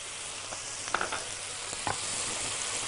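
Onions fry in ghee in a pan with a steady, close sizzle, marked by a few sharp crackles and spits as they cook.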